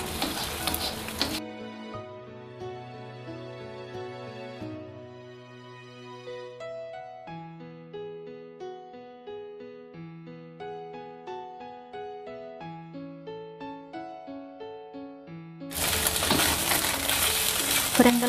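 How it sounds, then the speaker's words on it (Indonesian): An egg sizzles in hot oil as it is fried and scrambled, a loud hiss heard briefly at the start and again at the end, with gentle instrumental music filling the quiet stretch between. "Panaskan minyak secukupnya, lalu goreng telur."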